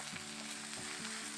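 Meat stir-fries in a pan on leftover heat until caramel-brown, making a quiet, steady sizzle over a brief stretch, with no voices.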